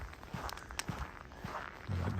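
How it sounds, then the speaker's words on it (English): Footsteps crunching and cracking ice on a winter sidewalk in Regina, heard as a few sharp crackles over steady outdoor background noise, with a heavier rumble near the end. "That nice cracking sound on the ice."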